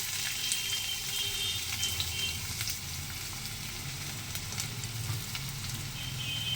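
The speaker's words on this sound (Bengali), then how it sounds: "এটা ভেজে নিই, বেশ লাল লাল করে এটা ভাজবো, আস্তে আস্তে ভাজি" Onion frying slowly in a little oil gives a steady, moderate sizzle with faint crackles spread throughout, heard close and continuous.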